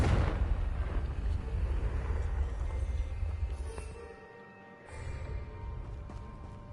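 Fiery spell explosion in the Hogwarts Legacy video game: a loud, rumbling blast that rolls on for several seconds, dips briefly to near silence, then swells again into a lingering low roar.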